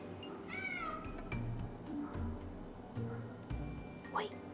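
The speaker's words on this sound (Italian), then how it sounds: "Io voglio quel gatto immediatamente now" A cat meows several times indoors, short rising calls scattered between a woman's chatter, with handling thumps and small clinks in a room.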